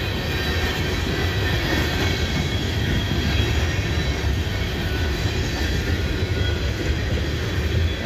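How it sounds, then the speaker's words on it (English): Abbeville freight switcher hauling grain cars and granite gondolas rolls past in a loud, continuous rumble with steady rail noise throughout. "Abbeville switcher. You got grainers on there, you got gondolas to pick up granite."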